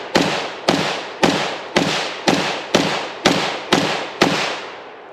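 A JRA Italian BM59 rifle with a 7-inch muzzle brake fires .308 rounds: nine loud, sharp shots at a steady rhythm of roughly one every half second, each with a short decaying tail, and no voices.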